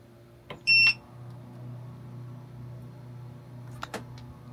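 A single short high-pitched electronic beep from an RV air conditioner's power button sounds near the start over a low steady hum, followed by faint clicks.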